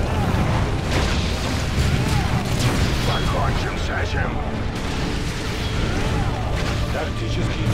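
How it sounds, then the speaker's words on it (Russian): Heavy booming explosions and rumbling blasts from Warhammer 40,000: Dawn of War II in a dense, loud game soundscape, with a voice speaking over the chaos. "Тактический взрыв."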